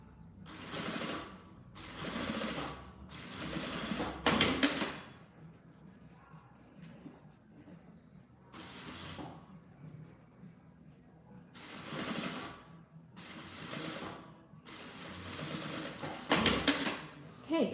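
A domestic sewing machine runs in several bursts, stitching around the seam of a fabric squeeze pouch at a 3/8-inch allowance, each run a few seconds long with short pauses between, close and fairly loud.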